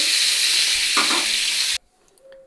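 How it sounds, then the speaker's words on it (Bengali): Slices of pointed gourd (potol) fry in hot oil, giving a loud, dense sizzling hiss for nearly two seconds before it cuts off sharply and leaves near silence with faint kitchen clatter. "পটলগুলো ভাজা হয়ে গেছে, এরপর আমি এগুলোকে তুলে নেব"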